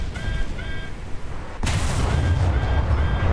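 Naval gunfire from a WWII destroyer in a War Thunder ship battle: a loud booming shot cuts through steady rumbling engine and sea noise, with faint tonal whistles and continuous low roar around it.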